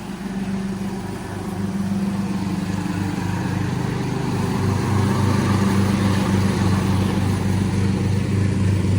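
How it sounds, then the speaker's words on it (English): Lawn mower running near a home in a mobile home park in Sebring, Florida, a steady droning engine hum that swells slightly louder partway through and continues without letup. "It may get a little loud with the lawnmower, so just listen for that."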